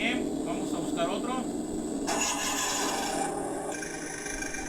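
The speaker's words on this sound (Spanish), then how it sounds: "Ese suena como si fuera diésel, motor diésel." Electronic diesel-engine sound from a sound module fitted to a modified Kyosho Alpine GT4 RC car, a steady rattling drone that shifts character partway through, heard close with someone speaking over it.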